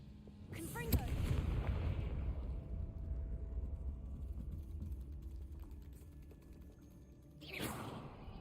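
A Confringo blasting spell explodes in the Hogwarts Legacy video game, a sharp crack followed by a deep rumbling burst that fades slowly, with another swell near the end.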